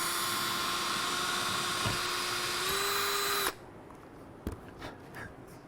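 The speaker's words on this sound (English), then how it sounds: "So now we're going to go ahead and drill into this deck." A power drill bores into a boat deck with a loud, steady high whine that cuts off abruptly, followed by a few faint knocks and handling clatter.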